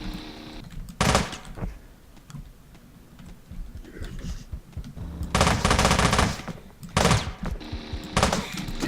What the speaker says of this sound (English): The auto pistol in action.